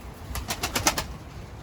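Adana and tumbler pigeons in a coop give several soft, short calls in a quick rhythmic run, close by and fairly quiet, with no talk over them.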